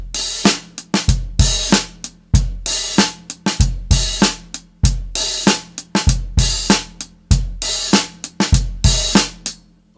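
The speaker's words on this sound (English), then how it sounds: "I was playing 2 and 4 on the snare drum" Drum kit working through a groove exercise with the snare on 2 and 4, sharp hits and kick beats repeating in a tight funk pattern, played up close with no talking.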